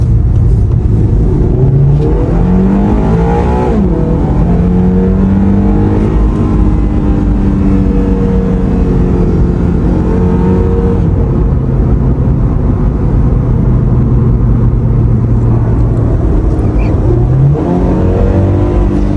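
A Toyota GR86 engine pulls hard while driving, loud and close, with rising revs through several gear changes and a steady road roar underneath.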